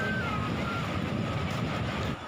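Steady roar of surf washing ashore, with broad wind-blown noise and no distinct breaks between waves.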